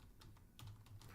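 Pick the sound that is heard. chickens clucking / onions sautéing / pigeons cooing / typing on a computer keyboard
typing on a computer keyboard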